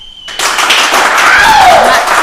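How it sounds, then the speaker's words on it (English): Audience at a live talk show breaking into sudden applause after a short silence, a loud, dense burst of many hands that holds steady, with faint voices rising through it. "My applause were louder."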